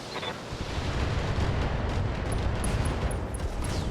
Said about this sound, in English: Ooh, ammo explosion.